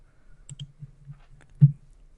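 A handful of soft, sparse computer mouse clicks, close and quiet, with one louder click near the end; no talking.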